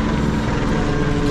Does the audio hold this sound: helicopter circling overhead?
yes